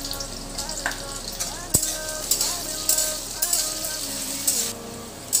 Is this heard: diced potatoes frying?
yes